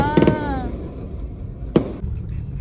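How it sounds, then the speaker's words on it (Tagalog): A single sharp firework bang sounds at night in Quezon City, with a voice speaking just before it. "Guys, may fireworks dito sa Quezon City, oh."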